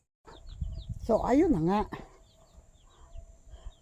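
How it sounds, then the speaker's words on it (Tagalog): A mother hen with her chicks gives a loud, close, wavering cluck-like call, preceded by scratchy movement and followed by faint chick peeps, while a person speaks briefly. "Ayan yung mag-iinang manok."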